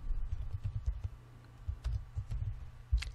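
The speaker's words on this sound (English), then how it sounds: "And I'm going to type in a title." Soft, close keystrokes tap out a title on a computer keyboard in an irregular run of quick clicks with small pauses, and no one speaks.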